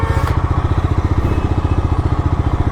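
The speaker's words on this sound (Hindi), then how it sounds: "एग्जॉस्ट साउंड भी भाई बढ़िया है" A Bajaj Dominar 250 motorcycle's exhaust thumping at a steady idle, close and loud, with an even rapid pulsing beat and a short rev blip at the start.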